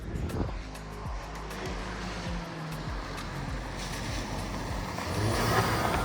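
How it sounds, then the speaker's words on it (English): Audi A3 on the MQB platform with turbo and exhaust modifications, a steady engine drone with several sharp crackling pops during downshifts, close and fairly loud, wind rushing along underneath. "Ooh, the downshifts are crispy."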